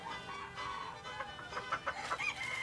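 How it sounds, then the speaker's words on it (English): Barnyard chickens cluck faintly in a loose, irregular chatter, the short calls picking up toward the end over a soft background. "What about chicken?"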